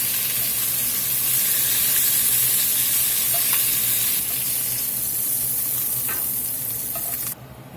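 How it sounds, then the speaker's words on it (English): Bacon sizzles and fries steadily in a pot for chicken tortilla soup, a continuous close hiss with a few faint stirring clicks and scrapes, alone without any talk. "Now we're going to get a bacon in the pot. We got the bacon browned up pretty good."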